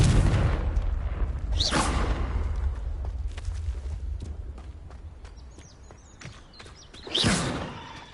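A Confringo blasting spell explodes in Hogwarts Legacy gameplay, a heavy booming blast with a low rumbling tail, followed later by a second sharp crack and burst near the end over quieter game ambience, with no voices.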